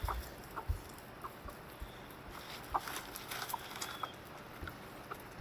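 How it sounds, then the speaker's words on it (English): Chickens cluck softly at a watering spot, with scattered short clucks, light pecking taps and a few sharper knocks over a low outdoor background. "Let's watch these chickens drink, okay?"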